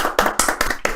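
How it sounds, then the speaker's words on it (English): Applause comes as four or five sharp, close hand claps at an even, quick rhythm, each a crisp smack with short gaps between. It sounds more like a few people clapping than a large crowd. "Applause"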